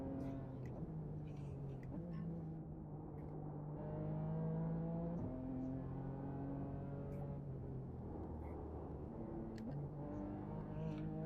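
Race car engine in a racing video game during night practice, droning steadily at a low volume, its pitch sagging and climbing around a missed downshift.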